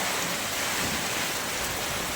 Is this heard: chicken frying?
no